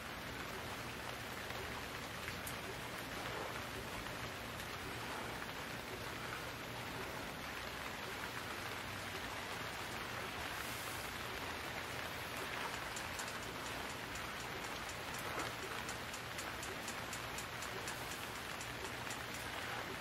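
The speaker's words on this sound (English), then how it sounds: "I think what I'm going to do is stop until the rain stops" Steady rain falls continuously in the survival video game Stranded Deep during a storm at sea, a dense, even hiss of drops on surfaces that stays constant throughout with no voices.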